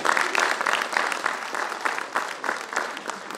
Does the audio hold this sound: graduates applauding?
yes